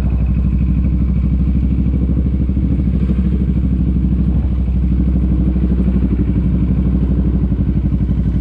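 A motorcycle engine runs loud and close for the whole stretch, a steady, rapid pulsing throb with rattling clatter and no voices over it.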